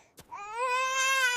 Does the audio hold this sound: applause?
no